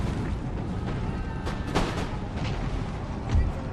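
Canister shot artillery fire booms across an Empire: Total War battlefield, a dense rumble of low thuds and bursts with a couple of louder blasts standing out, no voices over it.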